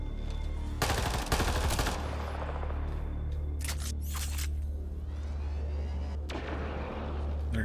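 A Remnant-tech turret in Mass Effect Andromeda fires loud automatic bursts, with a rapid volley near the start, further sharp cracks in the middle and a final burst near the end, all over a low droning hum.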